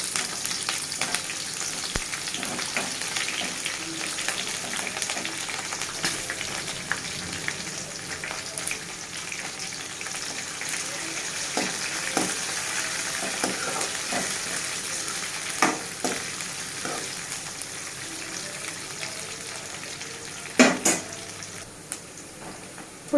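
Onions with dried red chillies and green chillies sizzle steadily in a pan, a close, continuous frying hiss broken by stirring scrapes and a few sharp utensil clinks near the end.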